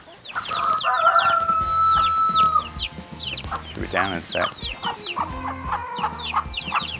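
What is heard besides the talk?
chickens clucking on a farm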